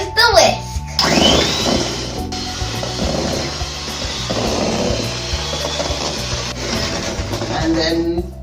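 An electric whisk beats a mixture until fluffy, a loud continuous whirring that runs throughout with the pitch shifting slightly as it churns. Voices talk over the motor.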